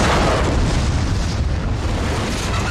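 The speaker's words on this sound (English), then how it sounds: "shooting the car as it goes by and exploding" A loud, sustained explosive roar filling the whole clip, a dense rumbling blast from a stunt car explosion, with no pauses and no voices.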